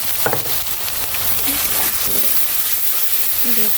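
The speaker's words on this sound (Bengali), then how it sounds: "পেঁয়াজটা হচ্ছে আমি একেবারেই ভাজা ভাজা করবো না একটু আরাম আরাম রাখলাম" Onions cook gently in a pan, a soft, steady sizzle with a few stirring clatters, heard close while someone talks over it.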